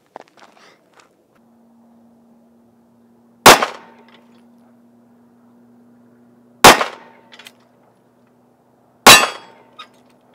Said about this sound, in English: Now we're gonna do 3 shots with the 45 and see how it holds up.